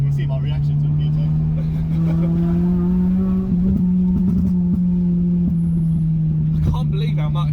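A tuned Honda Civic EP3 Type R engine drones steadily at close range, with sharp crackling pops and bangs from the exhaust scattered through it.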